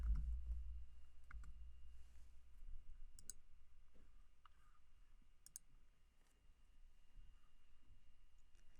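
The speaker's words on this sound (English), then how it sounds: "Clicking on that title again, and one more time to sort it from the highest return to the least." A handful of faint, sparse mouse clicks on a computer, quiet and isolated against low background hum with no talking.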